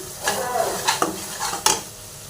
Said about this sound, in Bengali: মশলা বাটাগুলো দিয়ে কষিয়ে নিই কড়াতে তেল ছেড়ে গেছে